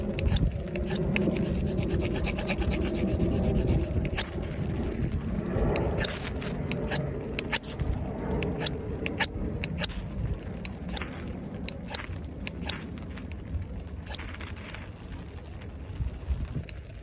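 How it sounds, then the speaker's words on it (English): A Lengren A687 folding knife's 14c28n steel spine scrapes steadily outdoors in wind, a continuous rasping with repeated sharp strokes, close and fairly loud. "the spine shaves and it sparks"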